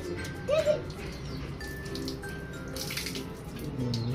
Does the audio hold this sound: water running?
yes